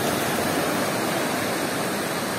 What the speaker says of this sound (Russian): Ну, волна пошла.